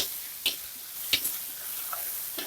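Ground chili sautés in a pan with a steady high sizzling hiss, broken by a few sharp clicks and scrapes from stirring, close and moderately loud, with no talking.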